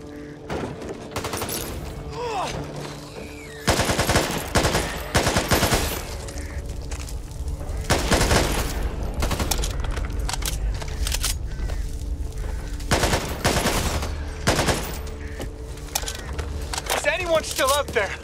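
A light machine gun fires in the zombie shooter game Back 4 Blood, with rapid bursts of automatic gunfire and heavy thuds mixed with game noise. Players talk throughout.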